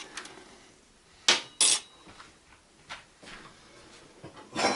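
A small tin pot for brewing Turkish coffee clinks and knocks as it is handled, with two sharp metallic hits close together near the start, then a few softer taps and clatters in a quiet room.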